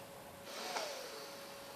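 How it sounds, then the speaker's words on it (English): A single slow inhale drawn through the right nostril during alternate nostril breathing, a soft airy hiss that rises over about a second, close to the microphone, with a faint steady tone running underneath. "breathe in through my right"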